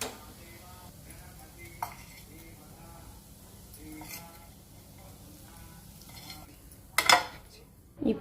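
A spoon scrapes carrot fry coated in roasted gram powder out of a pan into a bowl, giving soft, quiet scrapes and light taps that end in a couple of sharp metallic clinks.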